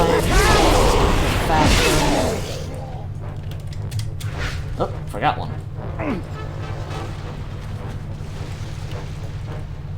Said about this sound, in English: Have both cannons firing at the same time.